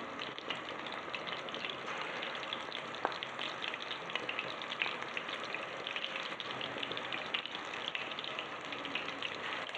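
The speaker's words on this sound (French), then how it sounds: "Je vais les faire frire un petit peu, puis je vais les remettre dans la marmite, dans la sauce." Minced-meat meatballs fry in oil in a pan for a tajine, giving a continuous crackling sizzle with scattered sharper pops, steady and close throughout with no talking.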